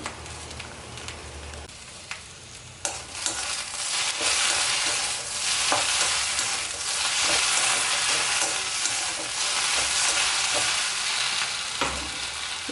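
Okra sautéing in a pan, a dense steady sizzle that swells as it is stirred, broken by scattered spatula scrapes and knocks, close and fairly loud, with no voices.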